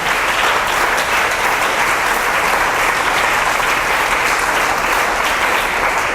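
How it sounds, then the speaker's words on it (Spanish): A church congregation at an evangelical convention in Planeta Rica, Colombia, gives a loud, sustained round of applause, even and unbroken throughout. "Un aplauso al Señor."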